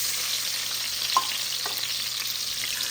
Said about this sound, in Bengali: তো এই ডিমগুলো একটু ভেজে নিই হালকাভাবে